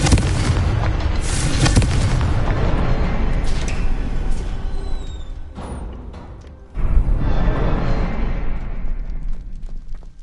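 A Confringo fire spell in the Hogwarts Legacy video game sets off a heavy, booming explosion, followed by rumbling blasts and crackling debris that fade and then swell again in a second loud burst near the end.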